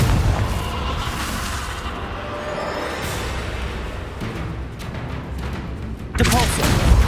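The Confringo fire spell in Hogwarts Legacy bursts with a loud, rumbling explosive blast amid continuous combat noise, followed by another heavy boom near the end.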